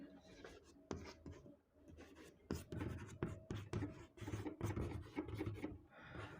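A Class 10 biology lesson brings quick scratchy strokes of writing on a board, in short rhythmic bursts with brief pauses between them.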